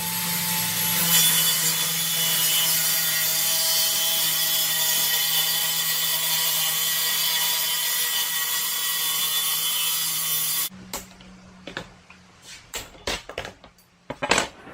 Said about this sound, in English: So let's go ahead and trim that down.